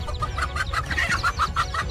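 A mother hen clucks in a steady run of short, repeated calls while facing off against a king cobra to protect her chicks, fairly close and loud over a low background rumble.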